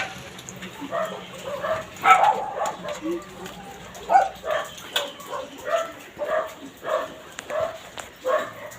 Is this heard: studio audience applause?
no